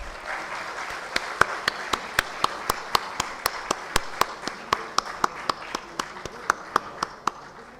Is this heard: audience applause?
yes